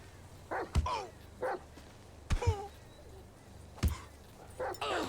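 A dog in Grand Theft Auto V barks in short, sharp bursts, about five spread across the stretch, close and fairly loud over a low game-engine hum with a faint voice now and then.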